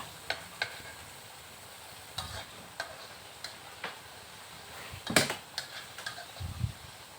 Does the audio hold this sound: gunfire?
no